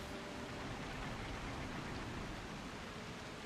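Relentless rain falls in the video game Wild Hearts, a faint, even hiss of rainfall with no pauses and no voices over it.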